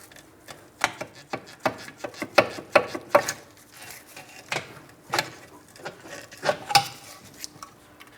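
Metallic clicking and ratcheting on a 2004-2008 Pontiac Grand Prix front suspension as the lower control arm is pried out of the subframe, a rapid irregular series of close clanks and ticks with no talk.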